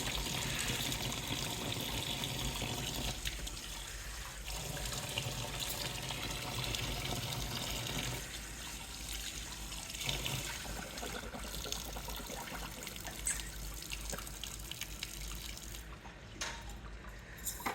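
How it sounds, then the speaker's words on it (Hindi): Water runs continuously from an automatic tap for a long stretch, a close, steady splashing gush with slight changes in flow, no talk. "भाई यही है, टूटी खोलो ऑटोमेटिक ऑन, टूटी बंद करो ऑटोमेटिक बंद, ये सिस्टम है।"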